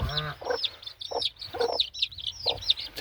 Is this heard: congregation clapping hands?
no